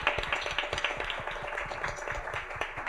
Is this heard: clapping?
yes